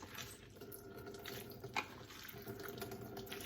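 Kitchen faucet spraying water while rinsing a big bunch of greens for spanakopita, a steady close rush of running water with faint splashes against a cabinet, no talking.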